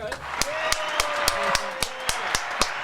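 Steady, rhythmic hand claps for a rapper on a podcast, about nine sharp evenly spaced slaps close to the mic, with talking and a faint tonal sound underneath.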